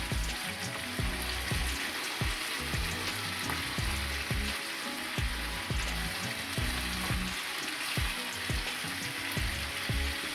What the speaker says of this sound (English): I'm going to cover it and let it fry.